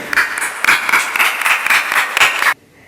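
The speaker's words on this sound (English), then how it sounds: "Applause for Dr. Pragati Singh." Audience applause for a speaker's introduction, with a loud, close burst of hand clapping that carries on for about two and a half seconds and then cuts off abruptly.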